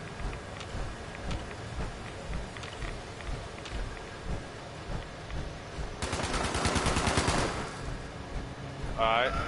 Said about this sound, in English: I hear them shooting, but I don't see them.